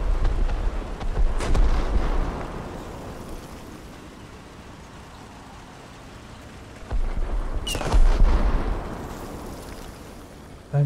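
Artillery fire in War Thunder, on a snowy map with an M4 and a Canadian Ram 2 tank nearby, comes as two heavy booming blasts several seconds apart, each rolling out into a long rumble over the low tank engine drone.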